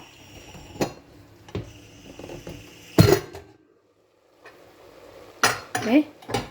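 Metallic clanks and rattles of a pressure cooker lid being handled and opened after the steam has released, with short pauses and a louder clatter near the end.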